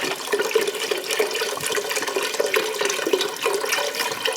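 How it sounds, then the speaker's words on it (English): Chicken stock pours into a soup pot with a continuous splashing, gurgling stream that stays fairly loud and close throughout, with no talking. "chicken stock going in"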